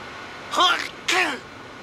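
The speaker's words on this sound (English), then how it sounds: "Just sneezing away." Two short sneezes from an enemy guard in the video game Metal Gear Solid: The Twin Snakes, each a sharp breathy burst about half a second apart, fairly close over a low game background hum.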